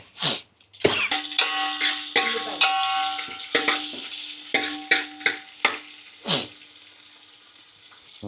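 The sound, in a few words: onions frying in pan for fish curry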